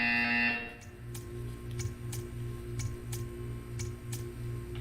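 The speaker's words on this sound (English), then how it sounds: "You will hear a buzzer" Buzzer in the video game Portal 2: a loud electronic tone opens, then gives way to a repeating low pulsing hum with regular sharp ticking clicks over a droning background.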